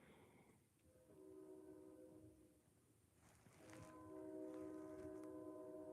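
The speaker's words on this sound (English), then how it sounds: "the train toot its horn" A train horn sounds in sustained tooting blasts, two long steady tones with a short break between them, heard at a moderate distance over a low rumble.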